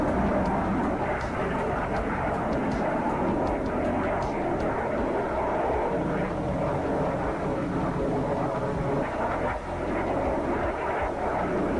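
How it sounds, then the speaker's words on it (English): A fixed-wing jet launches from the Russian carrier Kuznetsov in a video game, its engine roaring loud and continuous for the whole stretch, with no voices over it. "Con, Flyco, launching aircraft"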